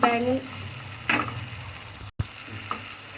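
Spices sizzle in hot oil in a pan while cooking baingan bharta, a steady frying crackle with a few stirring scrapes and clicks, close and fairly loud.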